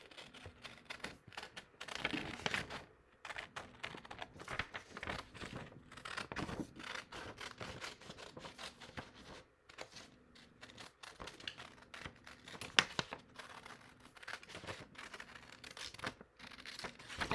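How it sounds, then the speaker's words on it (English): Scissors snipping and scraping through paper to cut a large oval head shape for a gator craft, soft, close and steady with irregular crinkly cuts and no talking. "So I'm just going to cut out the big oval shape head."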